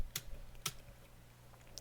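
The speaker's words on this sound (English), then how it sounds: "And to do that, we press Control and Y." Keys on a computer keyboard are pressed for a Control and Y shortcut, giving two quiet, close clicks half a second apart, followed by a faint third tap against a low background hum.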